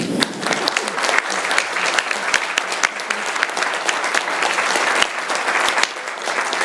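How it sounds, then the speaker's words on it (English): A live audience applauds at the close of a talk on the future of work: dense, steady clapping fills the whole stretch at an even level, with no voices over it. "a round of applause for Milena and Femke."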